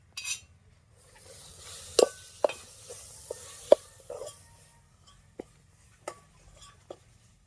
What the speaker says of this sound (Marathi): आता आपण भाजी टाकूया आता आपण मसाला पैकी परतून घेतलाय